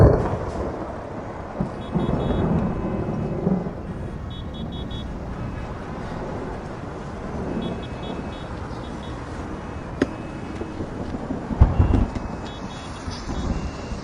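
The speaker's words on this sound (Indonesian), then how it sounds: "Hujan." Steady rain with low rumbling thunder, a loud crack near the end, and faint intermittent high beeping in the background.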